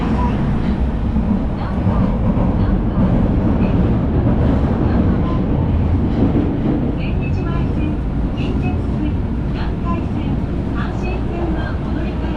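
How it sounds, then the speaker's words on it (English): A train pulls into a station in Osaka, a loud, steady rumble of rolling carriages and rail noise filling the whole stretch, with faint voices beneath. "Oh, here's a train."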